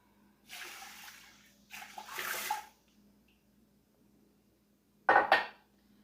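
Water poured into an electric pressure cooker holding whole moong dal, heard as two splashy bursts in quick succession, then a quiet pause and a short sharp clatter near the end.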